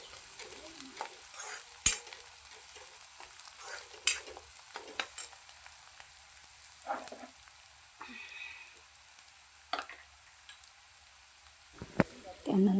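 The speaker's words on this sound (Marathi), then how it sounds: "हे असं छान यामध्ये परतून घेणार आहोत." Crushed ginger and garlic sauté faintly in a pan, with a soft sizzle under repeated sharp scrapes and taps of a stirring spoon spread across the clip.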